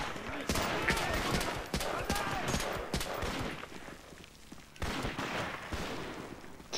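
Gunfire from the GameCube shooter Medal of Honor: Rising Sun, dense bursts of rapid shots and fusillades that run almost continuously with a brief lull, loud and close. Someone speaks over part of it.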